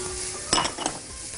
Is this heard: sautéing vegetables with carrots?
yes